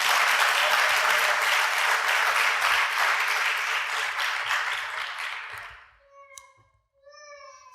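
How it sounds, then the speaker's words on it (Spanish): Church congregation claps loudly and steadily for about six seconds, then the applause fades out and a few brief tonal sounds and faint movements follow in the quiet. "Denle un fuerte aplauso al Señor"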